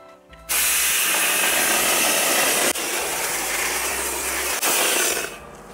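A dry ice blasting machine blows across a Honda Super Cub motorcycle, a loud, steady high-pressure hiss lasting several seconds with a brief dip midway, starting abruptly and tapering off at the end.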